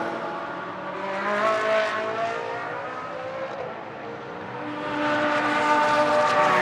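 Ferrari GT race car circling a practice session on the Moscow circuit, engine note rising and falling with harmonic whine, loud and fairly close throughout, swelling again toward the end as it accelerates.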